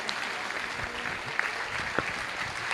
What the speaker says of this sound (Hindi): इन सभी कलाकारों का एक जोरदार तालियों से स्वागत कीजिए।